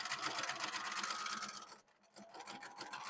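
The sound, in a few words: sewing machine stitching fabric for a scarf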